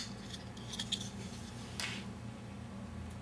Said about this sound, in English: that's where that blade is going to chop it off